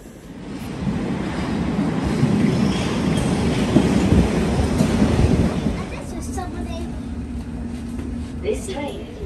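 A train pulls into a station platform, its loud rumbling roar building and holding for several seconds before easing off, with faint squeals and clatter as it slows.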